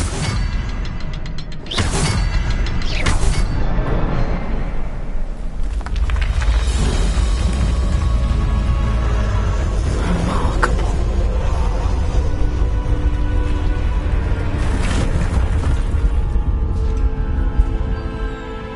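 Incendio fire spell cast in Hogwarts Legacy on PS5, with loud booming whooshes and crackling bursts layered over continuous game music and rumbling effects throughout.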